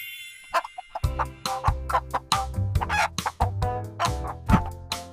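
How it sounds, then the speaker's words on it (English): Chickens cluck in quick, loud bursts while a rooster crows, the calls close and busy, overlapping in a steady farmyard clamor with no talking. "Chicken."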